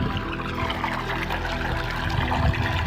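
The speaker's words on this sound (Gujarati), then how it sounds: "તો પાણી હવે સારું આવ્યું" A continuous gush of water pouring out of a pipe, steady and close, with no voices.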